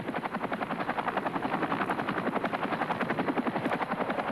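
A Huey military helicopter flies past, its rotor blades beating out a fast, even chop layered over the turbine whine, loud and continuous throughout.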